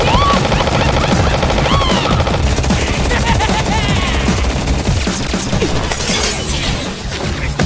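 Bursts of gunfire from an anime gunfight, loud and close, with rapid shots mixed with shattering and crashing impacts over a busy soundtrack.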